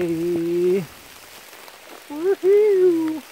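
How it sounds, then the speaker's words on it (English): Rain falls outdoors in a steady soft patter while a person's voice calls out loudly in two bursts over it. "Rainy, rainy day."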